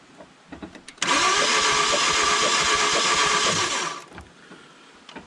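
A Mazda 3 engine cranks for about three seconds without catching, a loud, steady whirring starter drone with rapid rhythmic pulses that stops abruptly; faint voices are heard before and after.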